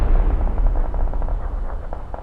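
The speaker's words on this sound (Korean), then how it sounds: "술탄 날아와요" Grenade blast in PUBG on the Miramar desert map, a heavy booming rumble at the start that rolls on as a dense low crackling roar, loud and close throughout.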